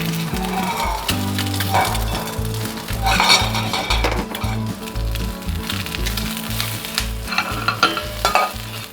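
An egg fries in a carbon steel clad pan, a close, continuous crackling sizzle with light spattering pops and occasional clinks of a utensil against the pan.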